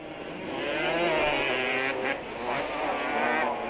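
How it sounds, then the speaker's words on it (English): Quad bikes race around a track at a 1997 Super Series event, with high, buzzing two-stroke engines droning loudly and steadily and rising and falling slightly as they pass. "Brandon Martin displayed the talent that will take him far in quad racing. 7 laps into the race"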